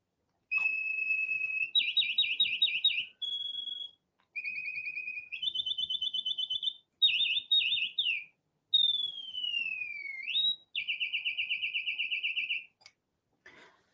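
Reuge singing bird music box driven by bellows, mimicking canary song: bright, clear whistled trills and warbles in short bursts separated by brief pauses, including rapid repeated chirps and one gliding downward note, heard alone.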